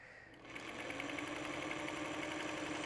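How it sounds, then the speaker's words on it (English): A sewing machine stitching over an existing seam along a fold starts up after a brief quiet moment and then runs in a steady, fast, even hum close by. "I'm going to stitch right over what I already put down because it's just easier that way."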